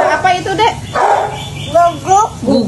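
A voice imitates a dog's barking with a series of short yapping woofs, close and loud, broken by brief pauses.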